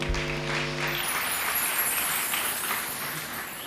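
A congregation at a Sunday church service applauds for the bishop, with a dense, even wash of clapping from many people that holds steady throughout, briefly preceded by a fading tone.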